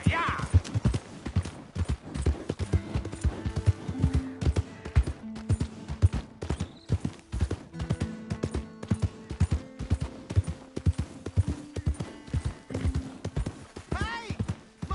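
Horse hooves clip-clop steadily at a walking rhythm in the Western video game Red Dead Redemption 2, close and continuous for the whole stretch, with speaking voices and occasional game sounds over them.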